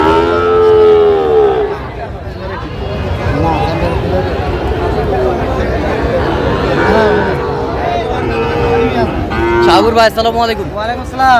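Sahiwal bulls and calves at a Dhaka cattle market moo loudly and repeatedly, close by, amid people talking and market bustle.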